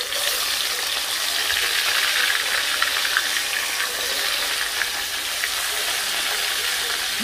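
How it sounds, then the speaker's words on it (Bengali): Fish frying slowly in a pan gives a steady, dense sizzle with a constant hiss and faint bubbling crackle throughout, close and even in level with no voices. "এই দেখো আস্তে আস্তে মাছগুলো আমি আস্তে আস্তে ভেজে নিচ্ছি"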